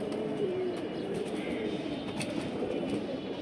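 Two baby pigeons for sale at a pigeon market, giving soft, faint cooing over a steady background hum.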